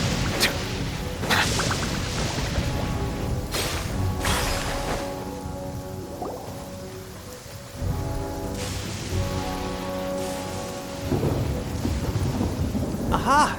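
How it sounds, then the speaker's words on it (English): Heavy rain pours steadily with several loud, sharp thunder cracks and rolling rumbles in a stormy Genshin Impact game scene, with no voices. "This heavy rain must be quite an inconvenience for you"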